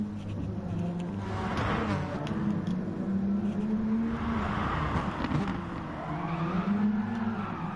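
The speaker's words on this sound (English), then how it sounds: "fantastic drifting there from Rotary" A race car drifting through a hairpin at the Tsukuba circuit, with its engine droning and revving while the tires squeal steadily through the long slide, holding a constant loud level.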